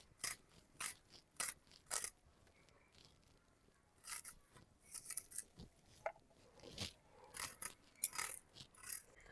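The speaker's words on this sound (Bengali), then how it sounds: "দুটো পেঁয়াজ নিয়েছি, কুচিয়ে দিয়ে দেব।" Knife chopping onions and green chillies on a board while preparing prawn paturi, a series of quick, sharp crisp cuts in bursts, close and fairly quiet, with pauses between runs.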